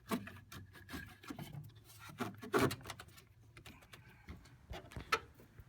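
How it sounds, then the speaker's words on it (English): An air filter is worked loose and pulled from the airbox of a 2014 Dodge Charger R/T, with quiet close plastic rubbing, scraping and small knocks, no talking. "I've already loosened the clamp, so the air filter should just come loose here"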